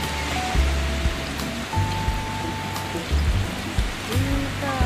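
Steady rain patters on surfaces at Bagsit River in Palauig, Zambales, with a faint tone and some low thumps and knocks in the background.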